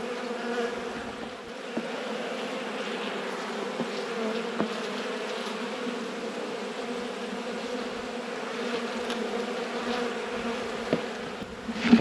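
Honeybees humming around an open hive during a late-season inspection, a steady layered drone close by with occasional individual bees buzzing past.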